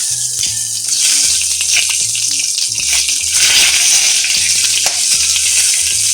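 Whole spices, mustard seeds, cumin, curry leaves and dried Byadgi chillies crackle and sizzle loudly in hot oil, a dense close frying hiss broken by rhythmic stirring knocks.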